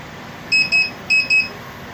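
Fault beeping from a Luminous Hercules 1600 inverter: four sharp electronic beeps in two quick pairs, loud and close with no other sound.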